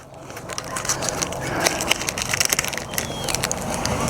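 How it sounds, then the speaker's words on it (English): Protective film being peeled off a Husky AeroSkin hood shield on a 2021–2025 Ford F-150, giving close crackling, tearing bursts in uneven spurts over a steady background. "you can peel off your protective coating"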